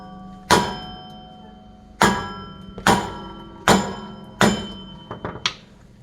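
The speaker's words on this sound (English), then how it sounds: "So let's get the hammer out and bang on it." Hammer strikes on the rear wheel bearing hub of a 2008 Chevy Malibu, five loud metallic bangs spaced about a second apart, then a quick cluster of lighter taps, close up with a ringing tail after each hit.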